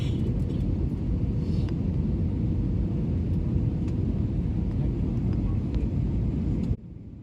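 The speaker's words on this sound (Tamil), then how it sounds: "இப்போ நான் பேசாமல் உங்களுக்கு அந்த ஃப்ளைட் போகிற மோடை மட்டும் காட்டுறேன் பாருங்களேன்." Airplane cabin noise fills the flight with a steady, dense low roar and whooshing engine rumble that holds constant for several seconds before dropping off abruptly near the end.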